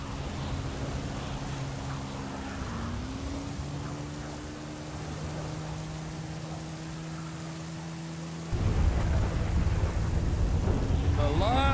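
Steady rain hisses over a low droning motorcycle engine in the GTA 5 video game, with a heavier rumbling roll of thunder and a louder wash of rain in the last few seconds.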